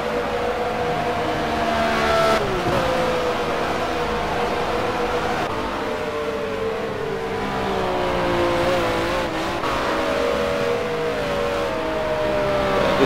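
Historic GT4 BMW race cars in the Project Cars racing game, a pack of engines droning and revving together steadily and loudly, with shifting pitch as they jostle for position on track.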